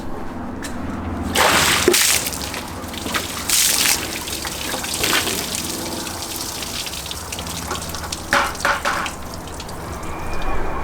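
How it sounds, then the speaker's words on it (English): Dirty, muddy water is thrown by hand onto a car's painted panel in a test of a ceramic coating wax spray. Several sharp, close splashes land and then trickle away, with further splashes later in the clip. "We got our dirty, muddy water, and we're just gonna throw it on there"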